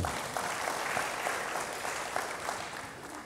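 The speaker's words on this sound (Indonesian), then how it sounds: "Yang mengerti, berikan tepuk tangan bagi Tuhan" Clapping from a church congregation during a sermon: a steady, moderately distant roar of many hands that thins slightly toward the end.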